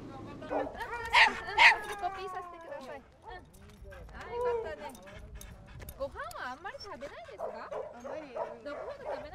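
A dog rescued weeks after the tsunami in Japan yips, whimpers and barks in eager bursts, close by, with people talking around it.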